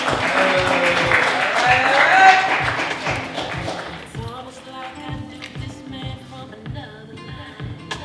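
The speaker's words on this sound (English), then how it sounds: "Let's give him a round of applause" A spoken word performance audience breaks into loud, dense applause for a returning performer, then it fades after a few seconds into quieter background tones and murmuring voices.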